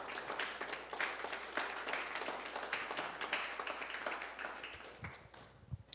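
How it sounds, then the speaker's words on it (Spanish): A church congregation applauds during a Spanish-language sermon on stewardship, dense steady clapping filling the room for several seconds before tapering near the end. "Dale un aplauso al Señor"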